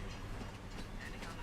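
A Deltic-engined train passes in Farming Simulator 25 with a steady low diesel rumble and faint rhythmic rail clatter, quiet and continuous across the moment, with no talk over it.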